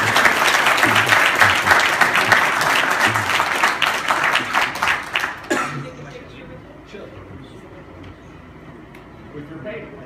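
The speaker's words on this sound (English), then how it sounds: "A hand of applause for Gretchen Ryan." Applause from the audience at a boxing press conference, loud and dense for about five seconds before tapering off into murmuring room noise and light talk.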